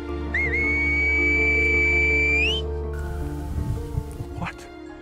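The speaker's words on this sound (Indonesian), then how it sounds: "penduduknya menggunakan bahasa Selbo-Gomero yang cukup unik karena menggunakan siulan saat berkomunikasi." A person on La Gomera whistles in Silbo Gomero, a whistled language, giving one long, clear, sustained high whistle with a slight rise at the end, heard over a steady background hum and faint rustling.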